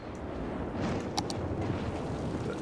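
A thunderstorm in the city-building game Cities: Skylines gives off a steady rolling rumble of thunder, moderately quiet and distant-sounding, with a few faint crackles breaking the low drone and nobody speaking.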